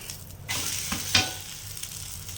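An egg omelette frying in oil in a pan gives a steady close sizzle that swells briefly, with a soft scrape near the middle.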